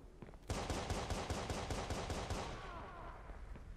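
Rapid automatic gunfire in the video game Watch Dogs, a loud burst of about a dozen evenly spaced shots that breaks in suddenly, then trails off into a fading rumble with no talking.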